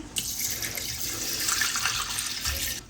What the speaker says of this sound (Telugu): నీళ్ళు పోసుకుని నానబెట్టుకుంటున్నాను